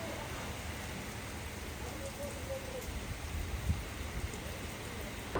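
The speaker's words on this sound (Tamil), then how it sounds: "அதுக்கப்புறம் பார்த்தா மழை பெய்ய ஆரம்பிச்சிருச்சு" Steady rain falling during a family trip in Kerala, a dense, even hiss of drops that holds at a moderate level throughout, with no clear talk over it.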